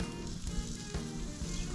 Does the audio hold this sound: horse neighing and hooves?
no